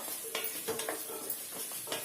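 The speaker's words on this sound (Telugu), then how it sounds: "ఒక్కసారి కలుపుదామండి, మధ్య మధ్యలో కలుపుకోండి" Stirring sweet potato curry frying in a pan, a steady sizzle under several scraping spoon strokes against the pan, close and moderately loud.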